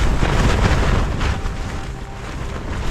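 Strong gusts of a severe Antarctic storm, around 60 mph, buffeting a tent, a loud continuous roar of wind and flapping fabric with surging bursts and no voices.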